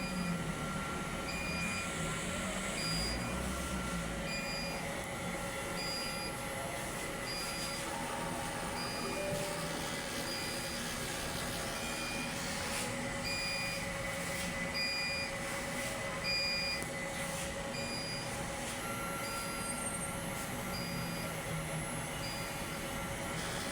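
A printer runs a head cleaning cycle with a continuous mechanical hum, periodic high electronic beeps and shifting motor whirs throughout, no voices.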